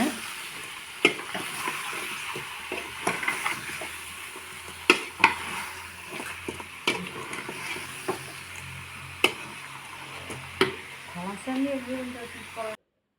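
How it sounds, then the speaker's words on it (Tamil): About one and a half kilograms of chicken sizzles and scrapes as it is stirred around a frying pan, with sharp clacks of a utensil hitting the pan at irregular intervals; a voice talks underneath. "சிக்கனை கொட்டிக்கோங்க நான் ஒன்றரை கிலோ சிக்கன் எடுத்திருக்கேன் அதை நல்லா பரட்டி விட்டுக்கோங்க"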